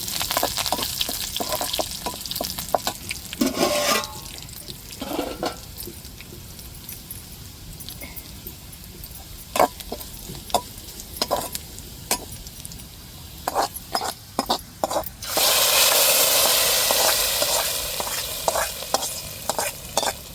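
Curry leaves frying in hot oil for a tempering for a fish curry, steady crackling sizzle with a spoon clinking and stirring against the pan, then a sudden louder hiss near the end, close up.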